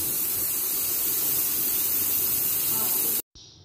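A pressure cooker lets off steam in a home kitchen as a loud, continuous hiss that keeps going for about three seconds and then cuts off abruptly, followed by a short, fainter hiss.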